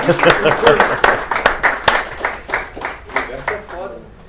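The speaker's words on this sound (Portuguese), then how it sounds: "Palmas pesadas, né?" Audience applause after a poetry reading, scattered clapping with distinct sharp claps that thin out and fade toward the end, mixed with some voices.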